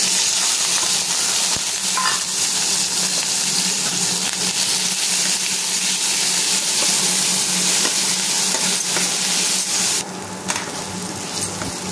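Chopped onion, garlic and green chilli fry together until reddened, a loud, dense, unbroken sizzle that drops slightly near the end, with no speech.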